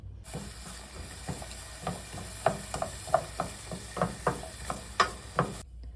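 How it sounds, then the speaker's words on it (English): Meat cooking together in one pan for meat lovers pizza burritos, a low steady sizzle broken by a regular series of close clicks and scrapes from stirring. "I'm just going to put all these together in one pan and just cook them up until they're basically, slightly tender."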